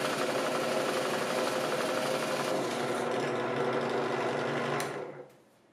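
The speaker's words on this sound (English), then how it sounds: "I took the smallest circle and drilled a 1-inch hole in the center" Power drill boring a 1-inch hole through the center of a small wooden circle for an ornament, a steady whirring grind running continuously and close, then cutting off abruptly near the end.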